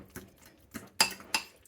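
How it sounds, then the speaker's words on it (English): A fork presses and scrapes against a bowl while mashing bananas for an upside-down cake, four faint soft clinks and squishy knocks spaced irregularly and heard close up. "I'm just going to kind of mash it a little bit."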